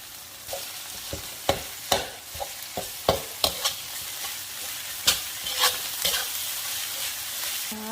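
Garlic and chili paste are stir-fried in a wok, with a steady close sizzle and a series of sharp, irregular scraping clanks from the spatula against the metal.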